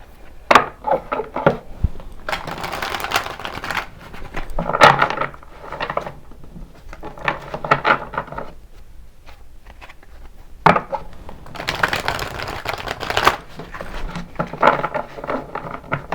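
Repeated riffling and soft slapping of tarot cards being shuffled up close, in bursts with short pauses, sometimes with sharp taps as the deck is squared.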